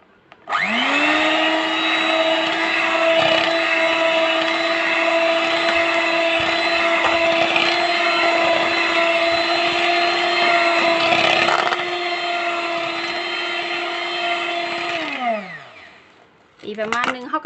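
An electric hand mixer whirs steadily at high speed, beating eggs into eclair choux pastry batter, a sustained loud motor whine lasting about fifteen seconds before winding down.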